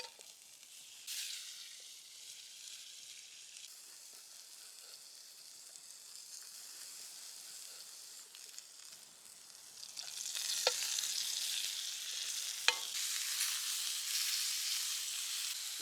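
Meat slices frying in a pan set over a campfire in the woods, a faint steady hiss that swells into a louder, brighter sizzle partway through, with a couple of sharp crackles.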